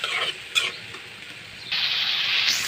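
Potatoes sauté in a spiced masala in a pan, with a constant hiss of frying. Stirring strokes scrape in bursts, and the sizzle swells louder toward the end.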